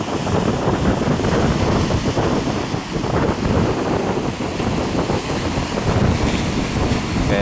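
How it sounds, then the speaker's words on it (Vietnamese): Waves slap against the bow of a boat at sea in strong wind, with heavy wind buffeting and a constant loud roar of surf and water. "Sóng nó vỗ cái mũi kìa,"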